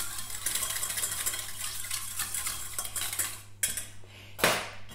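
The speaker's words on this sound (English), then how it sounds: "Now, to this base, I simply add my CPL aroma, my fragrance, and some antioxidant, and then stir to combine." A spoon or utensil stirs a perfume base with added fragrance and antioxidant in a container, producing rapid close clinking and scraping with a few louder knocks near the end.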